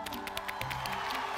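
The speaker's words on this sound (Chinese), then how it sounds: "掌声送给阿姨。" Studio audience on a Beijing TV health talk show breaks into brief applause, a short burst of claps and cheering over a steady tonal background.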